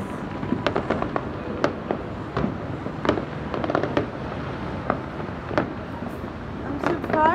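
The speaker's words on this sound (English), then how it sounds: "You guys with your fireworks." Christmas fireworks pop and crackle repeatedly at a distance, with scattered bangs over a constant rumbling background.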